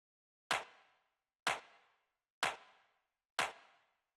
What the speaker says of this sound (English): So after that, we have this clap, which sounds like this.